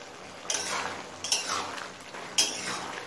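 Water lily stems (shapla) are stirred in a pan over a high gas flame, with three distinct metal utensil scrapes and clinks against the pan and a faint sizzle between them.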